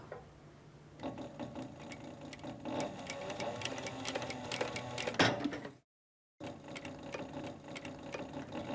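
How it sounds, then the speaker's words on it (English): A flatbed sewing machine stitching leather runs in rapid, rattling bursts, close and steady, with a brief silent gap before it starts again. "now we'll move to our flatbed sewing machine. I'm going to use a white stitch."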